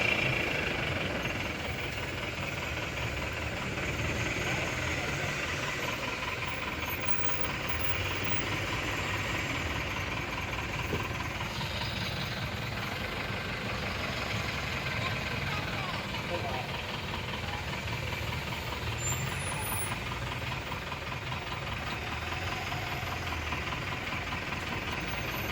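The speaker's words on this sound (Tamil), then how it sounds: "விழுப்புரம் அவுட்ரு புது பாலத்தில் ஃபுல்லாக வண்டிங்க ஜாம் ஆகி ரொம்ப நெருக்கடியாக இருக்குது" Vehicles idle in a dense traffic jam on a new bridge near Villupuram at night, a steady rumble of engines with knocking diesel tones holding throughout at moderate loudness, with no one talking.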